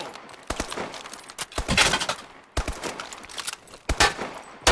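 Bursts of automatic gunfire in the Call of Duty: Advanced Warfare video game, loud rapid volleys broken by brief pauses, with a sharp burst at the very end.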